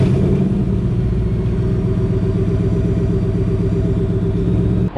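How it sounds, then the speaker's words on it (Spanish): A Ford Mustang engine idles with a deep, steady, throaty rumble, loud and close, holding a constant note throughout with no voices. "el carro se oye de lo más bien"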